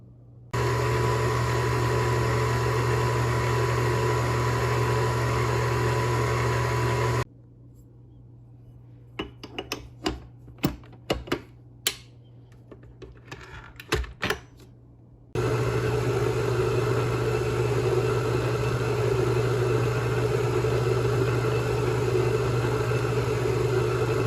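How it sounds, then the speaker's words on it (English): An electric stand mixer blends Italian bread dough with a steady, loud motor hum for several seconds, drops out while light clatter and handling noises play in the gap, then resumes its continuous drone to the end. "I'm gonna put it into the mixer and let it continue blending"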